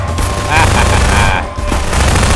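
Sustained submachine-gun fire from Half-Life 2 fills the clip in loud, dense bursts, with a brief dip near the middle before the shooting picks up again. Faint game voices mix in underneath.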